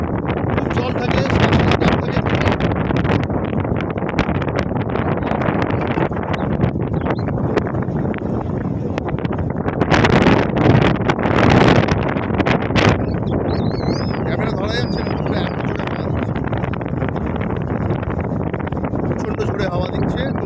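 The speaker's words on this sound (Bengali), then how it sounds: "প্রচণ্ড জোরে হাওয়া দিচ্ছে, তো ক্যামেরা আমি করতে পারছি না," Strong, stormy wind buffets the microphone on Mandarmani sea beach, a loud, continuous broadband roar with gusts swelling around the middle, and the shore's background noise is blended into it.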